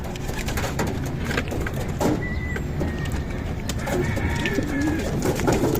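Black pigeon chick cooing softly in a loft, faint repeated calls over steady background noise with a few other bird sounds.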